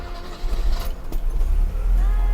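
A Mercedes-Benz 300GE engine cranks over and catches, settling into a steady low rumble close by, with a brief jangle of keys near the start.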